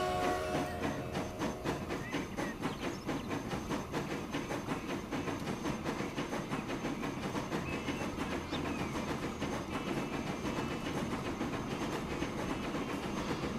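Train running through a rail hub in the Transport Fever video game, a steady rumbling roll with rhythmic clickety-clack of wheels on track, continuous and fairly close throughout without speech.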